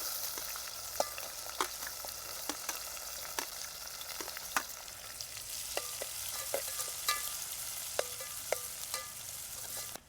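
Mustard seeds, curry leaves and onion fry in two ladles of hot oil in a pan. A continuous crackling sizzle is broken by sharp pops and the scrape of stirring, and no one speaks.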